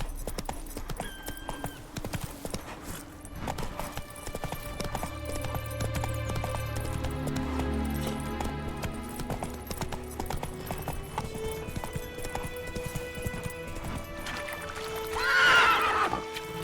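A horse in The Witcher 3 video game galloping with rhythmic clip-clop hoofbeats over game music, then neighing loudly near the end.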